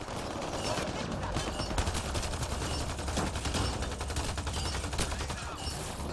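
Gunfire rattles steadily through a firefight in Mass Effect: Andromeda on insanity difficulty, with dense overlapping shots and bursts that fill the whole stretch at an even, loud level.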